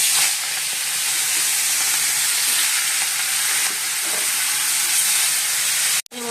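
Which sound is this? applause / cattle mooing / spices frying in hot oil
spices frying in hot oil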